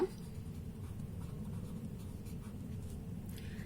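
Chalk or marker writing on a board during a primary-school maths lesson, a faint continuous scratching and tapping of strokes heard up close without any talk.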